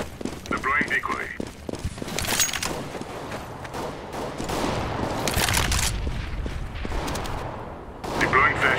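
Decoy grenade in CS:GO mimicking gunfire: dense crackling bursts of rapid shots sputter on and off across several seconds, mixed with in-game noise, with players' voices talking over parts of it.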